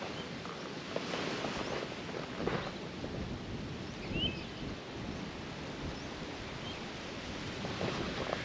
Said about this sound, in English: it's kind of windy right now